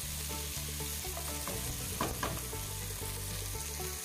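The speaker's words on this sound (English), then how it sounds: "Now stir fry them till the tomatoes are nice and soft and mushy." Finely chopped tomatoes stir-fry in a pan, sizzling steadily at low volume with a few soft spatula scrapes and stirs partway through, no voices.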